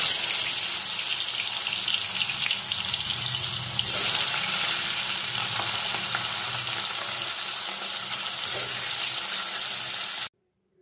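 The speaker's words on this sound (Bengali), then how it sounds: "এবার একে একে কই মাছের মধ্যে দিয়ে আমি ভেজে তুলে নেব।" Koi fish frying in hot mustard oil, a steady dense sizzle and crackle running close and loud throughout, with a brief swell partway through as pieces go in, then cutting off abruptly near the end.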